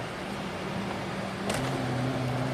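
A 1985 Oldsmobile with a no-power fault at full throttle: a steady, fairly close engine drone whose low tones jump higher partway through as the throttle opens, with no talking.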